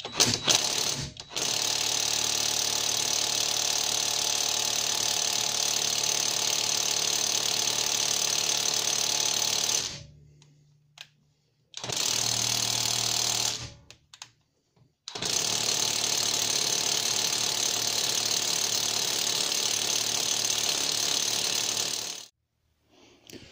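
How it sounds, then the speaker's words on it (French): A Parkside impact wrench works on the front shock absorber bolt of a BMW Mini R50, loud sustained buzzing rattle in three long bursts separated by short silences. "Donc on va tester la péteuse"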